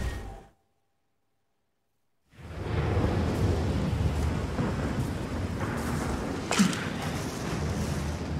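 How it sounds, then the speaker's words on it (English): Thunder of a brewing storm in the Outriders game: after a short silence, a continuous low rumbling roll of thunder with rain-like noise sets in and holds, with one sharper crack midway. "Storm brewing"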